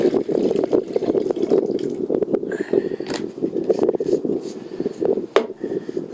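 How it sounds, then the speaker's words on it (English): Water pours into the pot of a Jetboil camping stove, a steady splashing trickle close by with a few clinks of the pot, running throughout without talk. "Just gotta pour some water in there."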